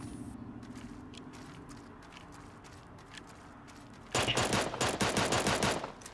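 Rapid bursts of cartoon-style gunfire from the battle royale game Super Animal Royale erupt loudly near the end, following a stretch of quieter game ambience.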